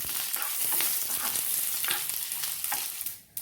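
Fenugreek seeds, curry leaves and chillies fry in hot oil for a tempering for mango curry, giving a loud, continuous crackling sizzle with stirring scrapes close by.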